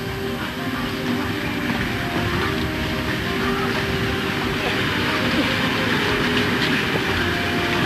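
A loud, steady rumble of a moving train, continuous and close, with rattling undertones throughout and no clear speech.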